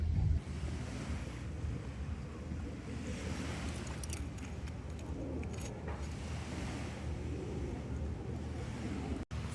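Surf washing onto a man-made beach on Sentosa Island, Singapore, a steady broadband wash with wind noise on the microphone, continuous and fairly close, with no voices.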